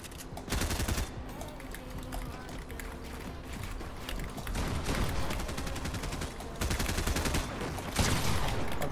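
Dense, rapid video game gunfire fills the clip in sustained bursts of overlapping shots that come in waves, with a faint voice underneath.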